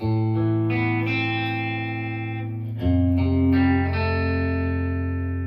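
An electric guitar plays a slow arpeggiated main riff, its notes ringing out with a shimmering chorus-like effect, clear and close with no voices.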